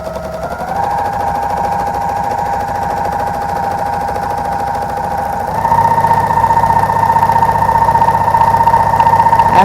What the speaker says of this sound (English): This is a 4-thread serger here, so I'll make this seam.